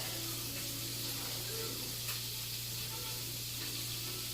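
Potatoes frying in a hot pan for a burrito, a steady close sizzle with a constant low hum beneath it.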